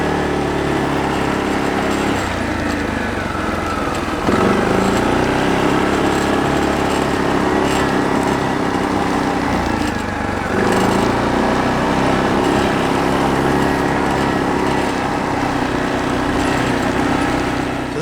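An ATV engine runs close at a set throttle, a loud, steady buzzing drone with small dips and rises in pitch around the fifth and tenth seconds, no talking.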